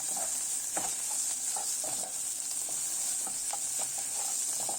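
Turmeric stirred into a broad bean curry in a pan gives a steady close sizzle under repeated scraping spoon strokes, with no talking.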